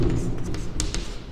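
A pen writes out a maths logic statement on paper or a board, making soft, scratchy strokes in quick bursts under a man's continuous speech.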